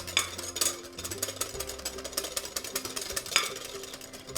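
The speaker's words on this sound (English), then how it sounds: "And I'm gonna whisk this some more." A whisk beats egg batter for Polish dill soup drop dumplings in a bowl, a quick rhythmic swishing with light clinks of metal against the bowl, close and moderately quiet under a low background hum.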